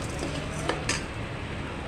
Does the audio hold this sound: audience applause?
no